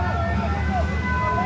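A fire brigade siren wails steadily through a dense outdoor din of traffic and crowd noise at a street protest, its rising and falling tones sitting under constant background rumble.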